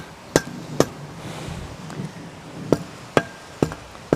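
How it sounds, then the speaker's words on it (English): A garden mallet pounds a metal garden-arch stake into the ground in sharp, isolated blows, two early strikes then a cluster of four, close and loud over quiet outdoor background. "Hammer it all the way in until it's down in the ground."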